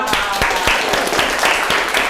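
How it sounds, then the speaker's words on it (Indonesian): A classroom of students claps together in lively, dense applause for about two seconds, loud and close, with no talking over it. "Oke, tepuk tangan dulu semua."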